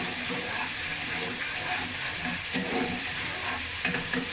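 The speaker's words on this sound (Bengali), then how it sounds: "চুলাটা হাই হিট করে মশলাগুলো একসাথে কষিয়ে নিব কিছুক্ষণ।" Spices and garlic paste fry on high heat in a pan for a spiced egg and spring onion dish, a steady broadband sizzle with light stirring scrapes running throughout, close and moderately loud.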